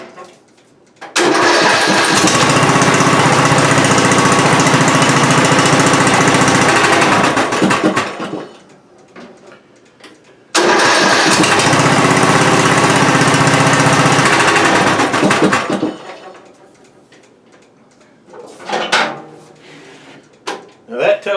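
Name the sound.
riding mower engine running, put in reverse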